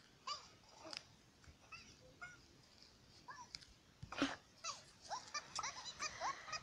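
Talking dog character from the Talking Tom mobile game making soft, high, babbling dog-like yelps and whimpers in short bursts, faint and somewhat distant.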